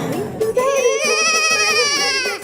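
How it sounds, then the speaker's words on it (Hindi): Phone ringtone of an incoming call, a bright electronic melody with a steady run of harmonic tones held for about two seconds, loud and up close, following a brief moment of speech. "पोपट भाई ने खास थैंक यू बोलने के लिए आपको फोन किया होगा।"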